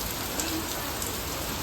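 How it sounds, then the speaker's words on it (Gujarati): Heavy rain pouring down in a downpour, a loud, dense, continuous hiss of drops hitting surfaces that fills the whole moment without a break, with no voices over it. "ભાઈ બહુ વરસાદ આવે છે ને આપણે નાવા જવાનું નથી."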